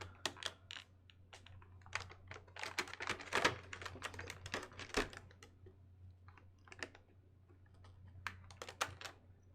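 Scissors snip through the plastic packaging of a DOOM Slayer figure: a close, busy run of sharp clicks and cuts, denser in the first half and sparser toward the end, with no talking.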